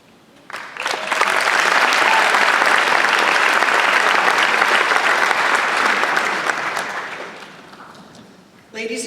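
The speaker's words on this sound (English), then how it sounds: "can we please have another huge round of applause for the class of 2015?" Loud, sustained audience applause fills a high school graduation ceremony for the class of 2015, swelling quickly and holding steady before fading, with a burst of clapping returning at the end.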